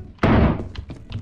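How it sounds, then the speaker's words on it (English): A gunshot in the video game Lethal Company lands as one sharp, heavy boom that decays over a fraction of a second, followed by quieter muffled thumps. "Gunshot. That's a gunshot."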